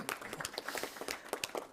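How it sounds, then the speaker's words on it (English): Audience at a city council meeting clapping briefly, a short patter of scattered hand claps at moderate distance, with no talking. "Feel free to clap."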